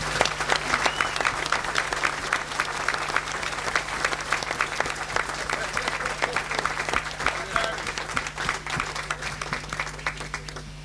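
Sustained audience applause at the 1987 Cavan International Song Contest, a dense steady wash of many hands clapping that holds evenly for the full stretch, with a low steady hum beneath.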